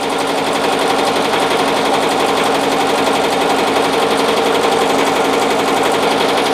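A BAi Vision embroidery machine stitching a 3D puff design, a loud, dense, rapid mechanical chatter of needle strokes running steady and unbroken throughout, with no voices.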